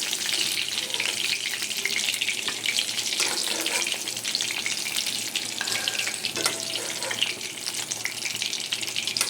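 Pointed gourd (potol) frying in oil in a pan, a steady dense sizzle with faint clinks and watery crackle throughout, close and continuous with no talk.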